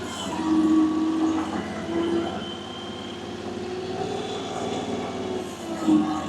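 A small Chinese AGT LRT23 mini skid steer driven backwards with the throttle raised, giving a steady engine drone and whine, fairly loud and close, with faint tonal squeals over the running machine.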